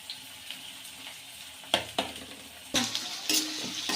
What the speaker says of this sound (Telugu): ఇట్లా వేపుకుందామండి ఉల్లిగడ్డలు ఎర్రేంత వరకు.